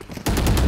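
A single gunshot in the video game Valorant, landing as a headshot, bursting in sharply and staying loud to the end of the short clip with no talk.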